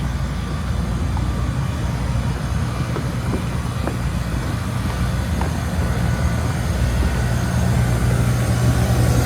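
A repaired HVAC air conditioning unit hums steadily at close range, a constant low rumble of motor and fan with no talk.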